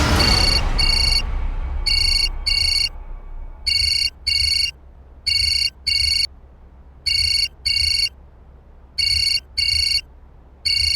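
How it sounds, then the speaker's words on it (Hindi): A mobile phone ringtone in a Hindi TV crime drama, loud, close electronic double-burst beeps repeating in a steady rhythm, following a fading low tone at the start with no talk over it. "अशोक का फोन है।"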